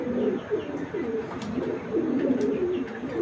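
Giribaz high-flyer pigeons coo close by in repeated low, throaty rolling phrases, overlapping steadily with faint chirps above and no talking.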